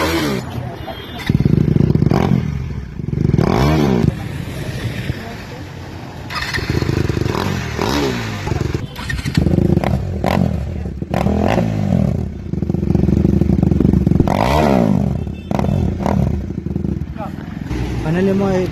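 A motorcycle fitted with a newly installed aftermarket exhaust revs in repeated bursts, its engine rising and falling loudly and close by, with speech heard between the revs.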